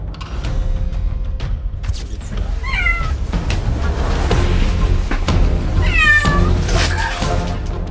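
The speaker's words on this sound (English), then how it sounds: "This silly baby kitten was playing with the car wheel and got stuck in it." A baby kitten stuck in a car wheel cries and meows loudly in several sharp, close calls over a noisy background, with bursts around the middle and near the end.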